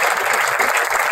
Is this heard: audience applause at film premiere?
yes